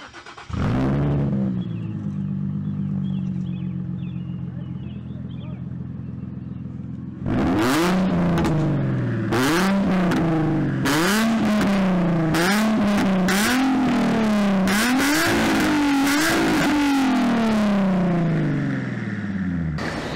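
A Nissan 350Z engine idles with a steady low drone, then is revved repeatedly in sharp rising and falling bursts, loud and close.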